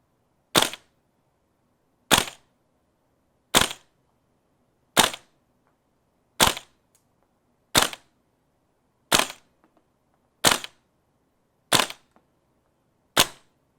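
An airsoft gun fitted with an RA-Tech magnetic locking NPAS composite loading nozzle fires ten BB test rounds, each a loud, sharp crack spaced evenly about one and a half seconds apart, with quiet between shots and no talking.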